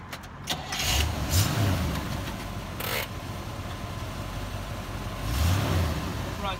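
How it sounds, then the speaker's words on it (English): A 1978 Corvette coupe starting up and running, a low steady engine rumble near at hand with brief throttle swells, a few sharp clicks and noises around it. "Now I'm going to go ahead and start this car up"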